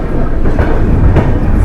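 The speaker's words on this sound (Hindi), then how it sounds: "बहुत देर से आउटर में खड़ी हुई थी ट्रेन" Indian passenger train near New Delhi, rolling loudly and close with a heavy rumble and faint clickety-clack of wheels over rail joints.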